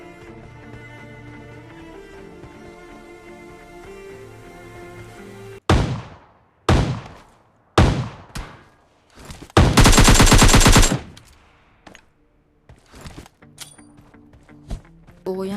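Groza assault rifle fire in PUBG Mobile Lite: after a stretch of quiet game music, several loud single shots ring out, then a sustained automatic burst and a few scattered shots, all close and without talk.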